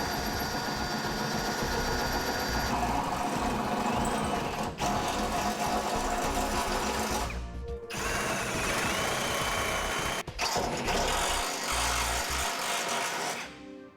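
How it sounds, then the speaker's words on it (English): A power drill whines steadily while boring a hole through a vehicle's front-end metal to mount a Roadmaster crossbar-style base plate, running in two long bursts with a brief pause between them, close and loud. "go ahead and drill our first hole here"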